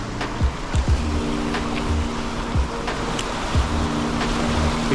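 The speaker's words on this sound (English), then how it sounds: "through all this rushing water that comes in here into this calm spot" Water rushes steadily over a spillway at night into a calm pool beside a wall, a loud continuous roar with a low engine-like hum underneath.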